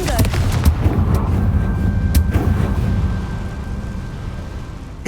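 A Confringo fire spell bursts in the video game Hogwarts Legacy, a loud booming blast with a rumbling, crackling tail that slowly fades into a steady hum.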